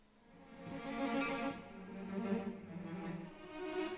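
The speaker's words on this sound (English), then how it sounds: "Now these sound cool because they have a bit of a scrape on the strings." Sampled cellos from the 8Dio Adagio library sustain soft notes with a slight scrape of bow on string, shifting pitch over a few seconds, quiet and close with no talking.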